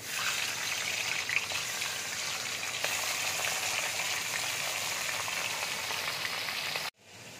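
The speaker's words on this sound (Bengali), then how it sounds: "তেল দেখো গরম হয়ে গেছে, এবার মাছগুলো আমি তেলের মধ্যে দিয়ে দিচ্ছি।" Hilsa fish fry in hot oil with a loud, steady, close hiss and crackle that holds for about seven seconds before cutting off abruptly.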